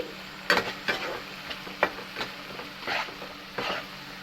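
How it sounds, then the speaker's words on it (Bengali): Ginger, garlic and chilli paste being stirred with onions in a pan for mushroom kosha, with a spoon scraping in about eight irregular strokes over a soft, steady sizzle. "আদা রসুন আর লঙ্কা বাটা আমি পেঁয়াজের সাথে ভালো করে মিক্স করে নিচ্ছি"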